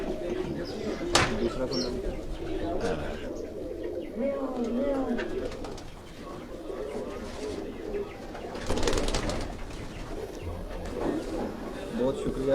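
Large-bodied khaki pigeons coo steadily in low, throaty rolls while people talk nearby.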